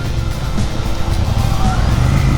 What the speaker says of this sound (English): Let the vehicles pass.